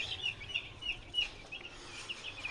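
Young vaccinated chickens in an enlarged indoor pen give repeated short, high clucks and chirps at an even pace, close and moderately loud.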